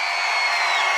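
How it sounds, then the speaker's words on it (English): Crowd noise from the audience at the Splatoon 2 European Championship at Polymanga 2018, a dense, steady wash of cheering and whoops filling the whole short moment at a loud, even level. "Est-ce qu'on peut les applaudir?"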